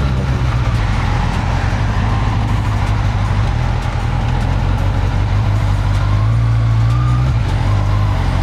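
Street traffic rumbles past nonstop, with heavy engines droning loud and close and a low hum that swells and shifts over several seconds, no one speaking.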